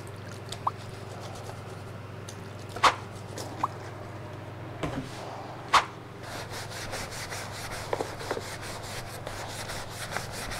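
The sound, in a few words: sanding old wooden furniture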